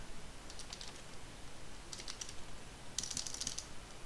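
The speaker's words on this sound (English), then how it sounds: "I'm terrible at typing on this keyboard." Someone types on a computer keyboard while playing Quadrilateral Cowboy, producing faint, quick clicking bursts in three short flurries with quiet pauses between them.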